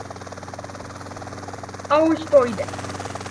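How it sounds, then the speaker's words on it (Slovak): A helicopter flies in the video game GTA San Andreas, giving a steady, pulsing rotor buzz with a low engine hum underneath while someone speaks briefly over it. "ja vo vrtuľníku vôbec neviem lietať"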